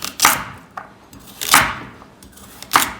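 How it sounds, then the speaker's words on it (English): A knife chops carrots on a board three times at a slow, even pace, each cut a sharp, close thud with a faint tap between. "I'm just taking the tops off, roughly chopping those."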